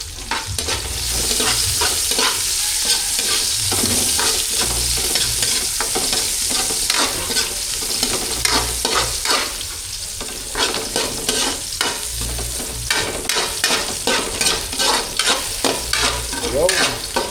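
Sliced onions for chicken kinamatisan sizzle steadily in a hot pan, a loud continuous frying hiss broken by repeated scraping strokes of a spatula, close up and with no voices.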